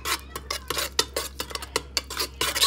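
A metal spoon stirs a sauce of paprika and dry pepper in a bowl, giving a quick series of sharp clinks and scrapes in an uneven rhythm, close and fairly quiet.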